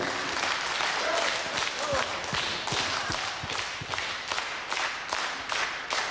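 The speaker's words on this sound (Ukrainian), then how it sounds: "будь ласка, ваші оплески" Audience applauding Ukrainian performers at a concert, a steady wash of clapping across the whole stretch with some louder individual claps near the front and faint voices underneath.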